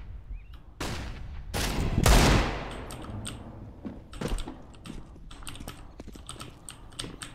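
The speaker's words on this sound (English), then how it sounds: "Deploying flashbang." A flashbang grenade going off in Counter-Strike: Global Offensive: several sharp broadband bangs and clattering impacts cluster in the first few seconds, followed by scattered clicky transients from the game, with no talk over them.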